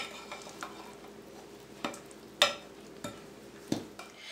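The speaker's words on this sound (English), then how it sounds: "So you mix all that in there, and we're just going to stir it around with our spoon." A spoon stirs spices, including cloves, in a bowl for a pumpkin spice cream cheese pie filling, giving soft scraping swishes and a few light clinks against the bowl, quiet and close, with no talking.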